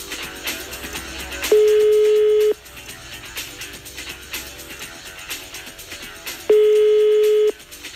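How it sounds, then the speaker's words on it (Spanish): A telephone rings in two steady, loud electronic tones about five seconds apart, each lasting about a second, over busy background music on a TV show. "Está sonando el teléfono."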